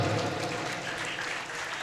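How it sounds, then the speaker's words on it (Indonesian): Lively applause fills a school anniversary opening event before a violin performance, a dense, continuous, fairly loud clatter of many hands clapping at once, without speech. "Beri tepuk tangan yang meriah."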